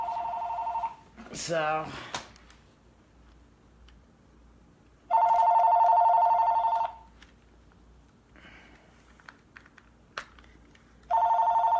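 Telephone ringing in bursts, three electronic ring sequences of about one to two seconds each separated by quiet gaps, with a brief voice and a few clicks between rings.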